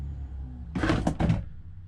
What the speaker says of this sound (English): I can just open the drawer.